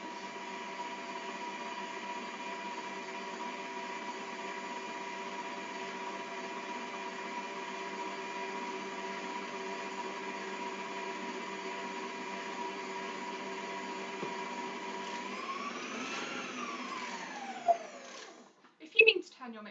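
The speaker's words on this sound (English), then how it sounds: "If you mean to turn your mixer off, make sure that you turn it the right way and don't accidentally speed it up" An electric stand mixer runs close by, beating cake batter with a steady whir that shifts in pitch near the end as the speed changes, followed by a few brief clunks.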